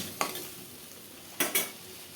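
Cut potatoes stir-fried in a kadai over a tempering of whole spices with a pinch of turmeric: two or three close scraping stir strokes over a low, steady sizzle, with no talking.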